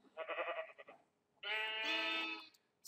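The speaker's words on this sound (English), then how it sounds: "these sheep are too loud." Sheep in Minecraft bleat twice, close and clear: first a short wavering baa, then after a pause a longer, strongly pitched bleat.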